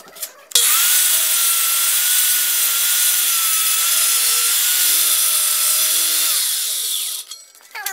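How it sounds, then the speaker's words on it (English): A Sawzall reciprocating saw with a worn blade cuts through a wooden barn column, a loud, steady buzzing rasp running for about seven seconds before stopping abruptly. "then we'll take a sawzall to cut it all out"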